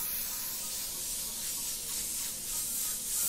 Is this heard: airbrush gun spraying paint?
yes